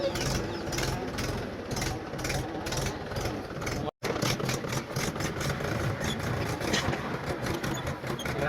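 A harvester machine's engine runs steadily at a farm paddy field during rice harvesting, a loud continuous mechanical drone with rapid rattling pulses that briefly cuts out near the middle before resuming.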